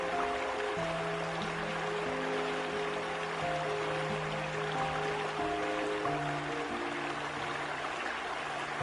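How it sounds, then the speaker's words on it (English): Iguazu Falls in Brazil pours a massive waterfall, producing a dense, steady roar of rushing water that fills the whole clip without a break, with a faint tonal hum underneath. "The sound of the water roars incessantly, so powerful it drowns out all other sounds."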